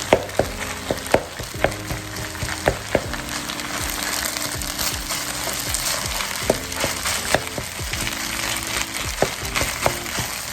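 Egg frying and being broken up in a pan for fried rice with peas, a steady close sizzle broken by frequent sharp scrapes and taps of a utensil against the pan.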